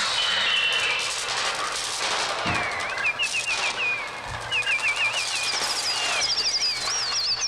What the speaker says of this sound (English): Just the sound of the birds like all around in the headphones and these like weird scratching noises and the flapping of the wings.